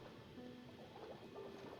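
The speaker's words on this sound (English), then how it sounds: "Random sea noise." Soft, low ambient sea noise in Minecraft, a gentle watery wash and faint gurgle heard alone at low volume.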